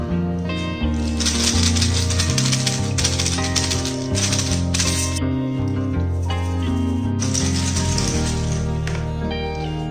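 Montessori sound box cylinders are shaken one after another, giving dense, gritty rattling bursts of varying grain, loud and close, with no talking.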